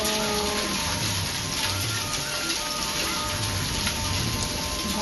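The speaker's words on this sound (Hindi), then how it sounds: "हाँ ये देखो दोस्तों, भाई बाप क्या बारिश है ये।" Heavy monsoon downpour at night, a dense, steady roar of rain drumming on surfaces with no letup, loud and close throughout.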